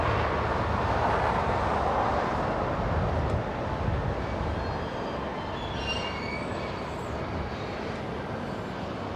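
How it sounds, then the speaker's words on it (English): A Qantas A380 airliner arrives at LAX as a loud, steady, broad roar that eases slightly partway through, with no voices. "There's the Qantas A380."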